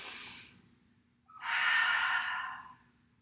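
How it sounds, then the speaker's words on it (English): Two deep breaths during a mid-day yoga flow: a short airy exhale fading out, a pause, then a longer, fuller belly breath swelling for over a second, close and soft with no talking. "Fill up that belly as much as you can. Exhale, belly softens. Twice more. Big belly breath."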